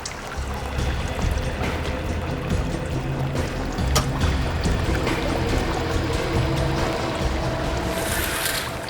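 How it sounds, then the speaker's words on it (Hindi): Water flows in a steady, loud rush, a continuous broadband wash with faint splashy crackles throughout, close and with no talking. "पानी बहने की आवाज आ रही है।"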